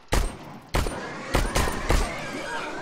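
Gunfire in the sci-fi shooter game StarForge: four sharp, loud bursts spaced roughly half a second apart, each decaying quickly over a low background hum.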